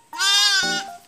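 A young goat, hand-raised and kept with a shepherd's flock, gives one loud, close bleat with a wavering, nasal tone lasting about a second, alone with no voices.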